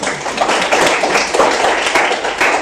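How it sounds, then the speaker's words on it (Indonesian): Classroom clapping during a Catholic religious education teaching session, a short burst of brisk hand claps from a small group, fairly close and even. "Tepuk tangan"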